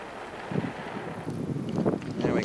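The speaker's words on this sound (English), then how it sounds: "right now it's super, super windy" Strong wind gusts blow across an outdoor survival campsite where a fire is being started with cow dung, a continuous low rumbling buffet of wind noise swelling in bursts.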